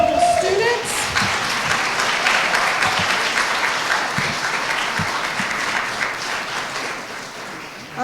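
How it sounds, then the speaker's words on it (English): Audience applause fills a school district scholars reception honoring students, a dense, steady wash of many hands clapping that stays loud throughout with faint crowd murmur beneath. "Let's give another round of applause for these incredible students."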